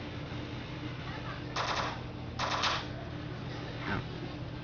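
Gunfire in a zombie video game, several short rapid bursts of automatic shots, fairly faint over a low steady background, with a few pauses between volleys.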